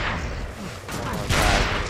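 Pistol gunfire in a 2v2 video game match comes as quick bursts of sharp shots and booms, loud and close, with brief voices mixed in.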